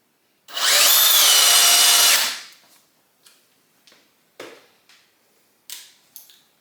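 A Ridgid compact drill on a 2 amp hour battery at speed 2 whines loudly for about two seconds driving a 4.5 inch wood screw, then stops, followed by several light clicks and knocks.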